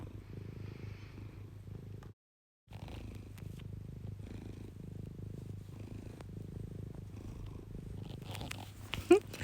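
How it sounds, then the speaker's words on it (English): A cat purrs steadily and softly up close, a low rumbling purr that briefly cuts out, followed by a faint clatter near the end. "That's Bertie, my cat, just decided to jump up and join me while I'm making this video for you."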